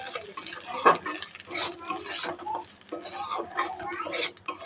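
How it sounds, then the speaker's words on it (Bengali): A utensil stirs semolina with egg in a metal pot, producing repeated scraping and clinking strokes in an uneven rhythm, close and moderately loud. "এটা ভালো করে নাড়তে থাকবো।"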